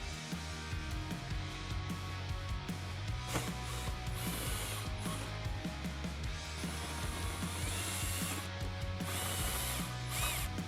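A ratchet backs out T15 screws from a Chevy Silverado or GMC Sierra truck sun visor base, producing busy close clicking pawl ticks over a constant low background hum throughout.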